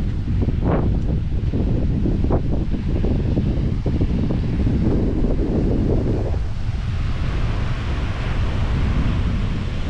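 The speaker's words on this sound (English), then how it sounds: "so here we are at the beach." Strong wind buffets the microphone on a beach, with surf washing in continuously beneath it, loud and close for the whole stretch and no one speaking.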